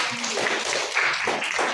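Classmates in a school lesson give a short round of applause for a student's answer, a steady wash of many hands clapping at moderate loudness with some faint voices mixed in.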